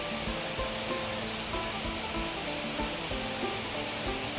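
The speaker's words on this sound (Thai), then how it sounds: "เสียงน้ำตกนะครับเด้อเสียงน้ำฝายตก" Water pours steadily over a weir and gives a constant broadband rush and roar, close and loud, with no pauses and no voices.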